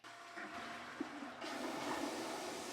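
A smart toilet with a bidet flushes when triggered from its wireless remote, a steady rush of water building and holding strong after a brief quieter start, heard up close indoors.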